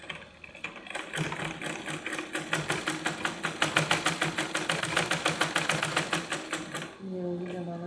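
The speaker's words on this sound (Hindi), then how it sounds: "अब लगाएंगे हम दबावट की सिलाई।" A sewing machine runs a steady stitching burst on a salwar, rapid rhythmic needle clatter building over several seconds before stopping, with a person talking faintly around it.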